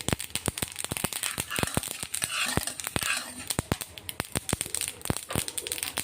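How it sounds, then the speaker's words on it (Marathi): Rapid, irregular crackling and popping of sesame seeds roasting in a pan, sharp close snaps scattered densely over a steady hiss. "हे बघा तिळीचा आवाज येतोय ना तुम्हाला अशी तीळ भाजली गेली पाहिजे"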